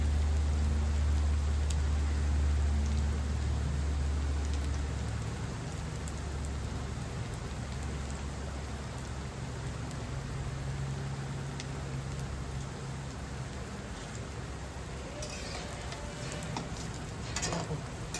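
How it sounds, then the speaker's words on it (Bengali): Paneer frying in a pan over medium heat gives a continuous soft, rain-like sizzle, fairly faint and steady, with a few brief louder crackles near the end. "একটু আঁচটা কম করে দিই, মিডিয়াম আঁচে ফ্রাইগুলো করি।"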